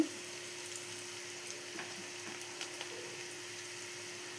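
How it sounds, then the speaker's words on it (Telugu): Onions frying in a pan with pink salt added, a faint, even sizzle with occasional soft crackles, quiet and steady throughout, no voices. "ఇప్పుడు వేగుతున్నాయి కదండి ఇప్పుడు మనం సాల్ట్ వేసుకుంటే కొంచెం త్వరగా వేగుతాయి ఉల్లిపాయలు"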